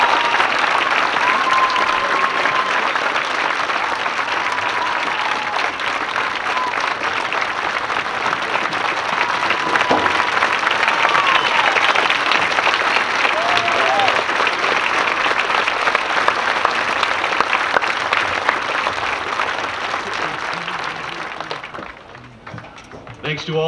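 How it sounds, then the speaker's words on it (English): Sustained applause from a large high school graduation crowd honoring graduates enlisting in the Air National Guard and Army, dense steady clapping that fills the hall for about twenty seconds before tapering off, with faint voices mixed in. "Please give them another round of applause and thank them for their future service."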